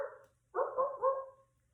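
A person's voice imitates a dog barking during a children's movement session: one short yap, a pause, then a longer barking sound with two rising pulses, close and moderately loud.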